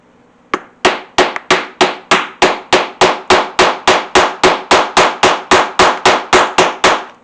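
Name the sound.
hammering a snap setter on a leather snap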